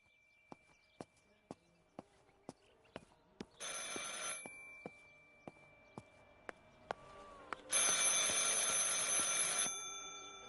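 Telephone ringing in the video game Martha is Dead: steady repeated clicking ticks, then two loud bursts of shrill electric bell ringing, the second longer, with no talking.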